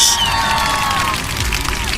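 Crowd at a swimming pool cheering and shouting, a loud, continuous roar of mixed voices with excited high-pitched calls, sustained throughout a brief moment.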